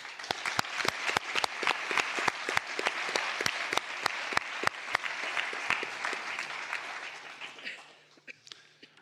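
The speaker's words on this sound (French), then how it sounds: "Je pense qu'on peut les applaudir" An audience at a closing lecture and prize ceremony applauds volunteers and staff, with many distinct claps over a crowd wash. It holds steady for several seconds, then thins and fades to scattered claps near the end.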